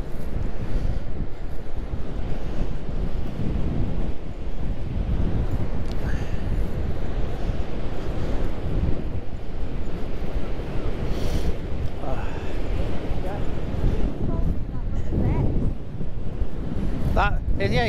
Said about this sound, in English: The wind is blowing a gale.